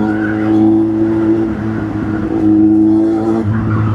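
A loud, close engine and exhaust drone from a vehicle cruising in fourth or fifth gear in a mall parking area, a steady tonal growl that rises and dips slightly.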